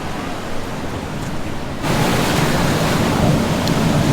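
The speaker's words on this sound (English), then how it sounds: "The waves are getting stronger and stronger." Ocean waves break and surge onto the sand at Laguna Beach, California, a steady loud roar of surf that swells noticeably stronger partway through, with wind buffeting the microphone and no voices.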